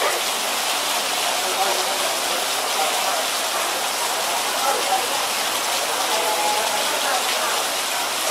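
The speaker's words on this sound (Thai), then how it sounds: "ฝนสาดแล้วค่ะ" Staged heavy rain splashing down in a dense, steady hiss of water that holds evenly throughout, with no voices over it.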